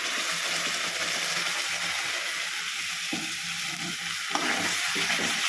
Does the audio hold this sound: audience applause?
no